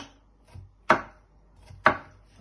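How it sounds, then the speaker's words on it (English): Knife chopping a peeled ingredient into small pieces on a board for prawn vermicelli, with two sharp, close thuds about a second apart and softer taps between them, and no talking. "you're just going to slice it into little pieces"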